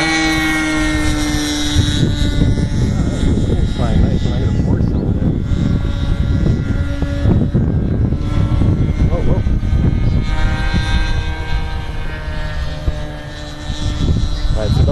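A radio-controlled model F-16 jet with a 3-cell battery and 65mm ducted fan takes off and flies, its high whining fan steady and fairly close throughout, with someone talking over it.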